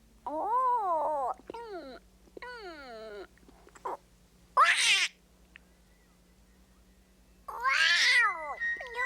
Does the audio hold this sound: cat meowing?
yes